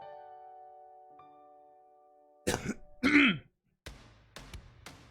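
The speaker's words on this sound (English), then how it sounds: "I'll still cough a little bit, but I can talk fine." A person clears their throat and coughs a few times up close, short harsh bursts separated by brief pauses after a quiet stretch.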